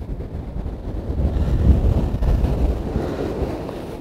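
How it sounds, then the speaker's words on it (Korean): Winter sea waves surging onto the shore while wind buffets the microphone, a steady low roaring wash that swells louder midway and stays heavy to the end, with no voices. "캐스팅할 때 자 파도 오는 거 보고 자 다음 파도 오고"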